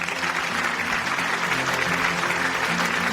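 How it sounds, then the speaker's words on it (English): Sustained applause from a crowd at an awards ceremony fills the whole moment, dense and steady with no pauses. "Let's give them a round of applause"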